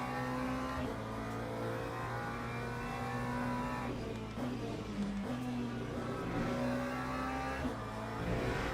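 A race car engine in Le Mans Ultimate holds a loud, steady tone, dips briefly with a downshift, then climbs again under power through the rest of the stretch, with no talk over it.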